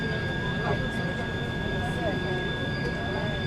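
A low-cost passenger jet on the Kochi to Salem route begins taxiing before takeoff. A steady engine drone and whine fill the cabin, with thin high tones and passenger voices faintly underneath.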